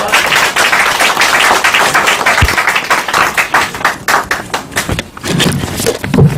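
An audience at an election-fraud exhibition event in Korea gives a speaker warm applause, a loud, dense burst of many hands clapping that thins out toward the end.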